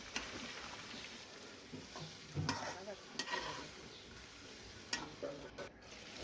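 Masala paste for vegetables sizzling in oil with chicken feet, legs and heads, a soft steady crackle with occasional scraping stirs, fairly faint and close.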